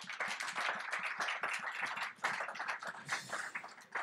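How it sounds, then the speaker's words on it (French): Quiet applause from a small audience at a business breakfast, individual claps distinct and uneven, briefly dipping midway before picking up again. "On peut les applaudir."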